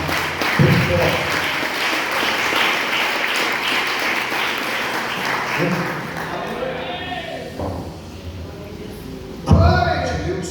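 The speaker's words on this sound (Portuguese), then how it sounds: "Desocupe a tua mão e bata uma salva de palmas bem forte." A church congregation at a family worship service claps hard, the thick applause running for several seconds before thinning out, with voices and a few sharp thumps near the end.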